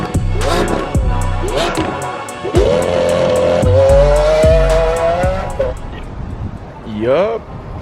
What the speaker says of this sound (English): Look at this little freaking go-kart,